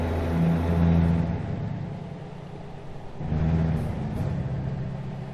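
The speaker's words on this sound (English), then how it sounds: "when you're above 20, it kicks out and almost sounds like it's going to stall out, just the design of the engine" Game truck engine from American Truck Simulator rumbles low and steadily, rising in revs, dropping off as if about to stall around three seconds, then surging again.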